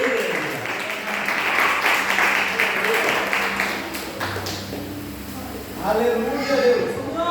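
Church congregation clapping in applause during a worship service, a dense sustained patter of hands filling the room, with a preacher's voice carrying over the top.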